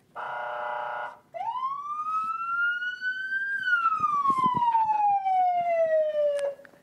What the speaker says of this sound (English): I am allowed today not only to wear the fire gear, but also to use the sirens